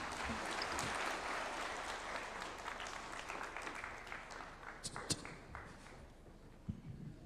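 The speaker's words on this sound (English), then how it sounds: "Another round of applause to His Excellency" A conference audience in Nairobi applauds, a dense, even patter of many hands that gradually thins, with a few sharper individual claps standing out toward the end and faint talk underneath.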